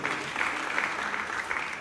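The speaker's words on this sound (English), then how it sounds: "Please a better round of applause for him" A round of audience applause at a language conference after a prayer, dense, even clapping that sounds fairly distant and soft, with no voices standing out.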